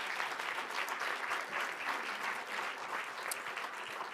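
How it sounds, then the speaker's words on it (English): An audience gives a panel another round of applause at a health policy learning exchange, steady continuous clapping from many hands, fairly close and evenly sustained for the whole stretch. "I think they deserve another round of applause"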